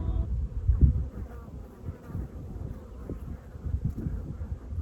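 Bees buzz constantly among desert shrubs in Death Valley, a loud close droning hum with swells as insects pass near, joined by faint rustling and no talk.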